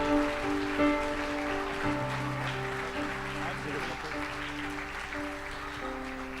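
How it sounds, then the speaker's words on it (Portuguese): A church congregation claps loudly and continuously, with a dense, rain-like patter of many hands, while voices and music carry on underneath. "Aplauda bem forte ao Senhor."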